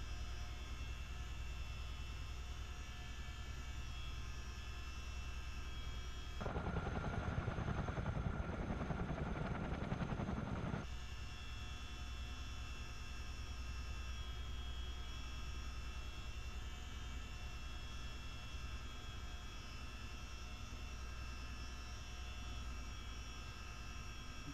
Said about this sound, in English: Bring it up the active runway here,